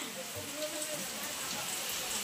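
Heavy monsoon rain pouring down in the Konkan region, a steady dense hiss of drops filling the background, with faint indistinct voices underneath.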